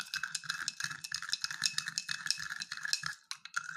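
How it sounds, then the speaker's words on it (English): A spoon stirs half a spoonful of sand into a glass of water, producing quick, close, rapid clinking and gritty scraping against the glass in a steady rhythm, with a brief pause near the end. "when I will stir the solution"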